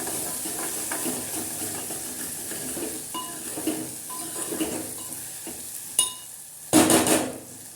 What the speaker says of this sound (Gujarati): સ્વાદ અનુસાર મીઠું, ધાણા જીરું પાવડર નાખીને ફરીથી એકવાર હલાવી લઈશું